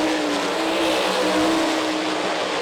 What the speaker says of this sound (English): Tasker Phillips roaring by in that 7 Taz car